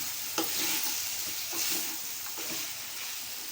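Mutton pieces frying in masala in a pan, a soft continuous sizzle with a few scraping stirs, close and fairly quiet, no talking.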